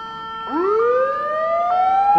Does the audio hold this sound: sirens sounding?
yes